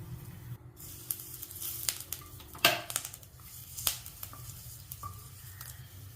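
Asafoetida and tamarind sizzle and crackle in hot oil for a Pudukkottai chutney, a faint steady frying hiss with scattered sharp pops and spatters.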